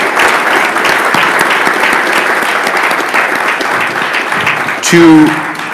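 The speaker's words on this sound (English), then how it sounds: "let's hear a round of applause for our guests here today" Audience applause for guests at a panel discussion on engagement journalism, a steady dense clapping that fills the whole span, with a voice briefly speaking near the end.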